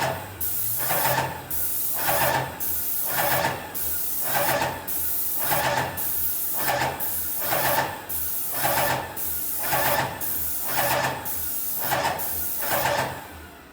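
A Graco GX21 airless paint sprayer fires in regular bursts about a second long with short gaps, a loud, close, steady hiss with a machine hum beneath.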